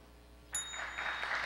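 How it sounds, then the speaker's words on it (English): A single bell struck as a comic cue for applause rings out with a bright ding, its tone lingering briefly as a faint room rustle rises behind it. "this is what I call the bell of cheap applause"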